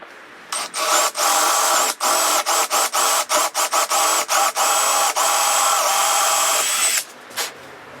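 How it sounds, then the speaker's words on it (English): A power drill whines steadily at high speed, cutting in and out in rapid bursts as it bores into wood, loud and close. "Now we're gonna drill again"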